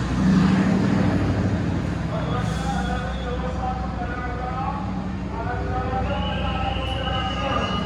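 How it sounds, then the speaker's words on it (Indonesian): A commuter train rolls into Surabaya Gubeng station, a steady loud rumble of wheels and carriages with metallic tonal whines and faint squeals, while people talk over it throughout. "ini kereta api Komuter Lain Arjonegoro masuk stasiun Surabaya Gubeng"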